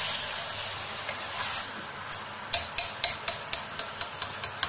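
Masala chicken with ginger garlic paste stirred in a hot pan, a steady sizzling hiss broken by a run of sharp, rhythmic scraping clicks from the spoon, close and clear.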